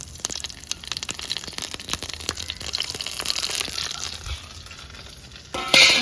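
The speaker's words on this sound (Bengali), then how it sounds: "দেবো আমি কারি পাতা হালকা করে ভেজে নেবো" Curry leaves frying lightly in hot oil for a steamed pabda fish dish give a crackling sizzle with scratchy stirring sounds, ending in a sudden louder burst.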